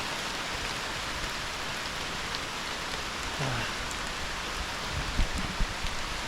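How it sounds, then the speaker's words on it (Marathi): Heavy monsoon rain pours steadily in a village, a dense, even hiss filling the whole stretch, with a couple of faint knocks near the end. "पाऊस जास्त पडायला लागलाय"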